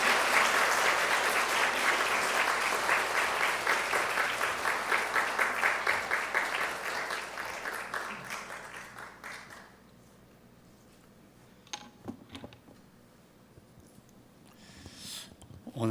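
A church congregation at a Seoul Women's University Sunday service claps steadily to welcome a visiting pastor, loud sustained applause that fades out after about ten seconds into near quiet with a few faint scattered sounds.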